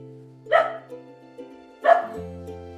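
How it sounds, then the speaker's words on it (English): A lone dog barks twice outside a tent at a campsite, two sharp, fairly loud barks about a second and a half apart over a steady low background tone. "Oh my goodness! It is a dog!"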